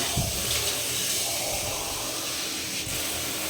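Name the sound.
water running while rinsing puja items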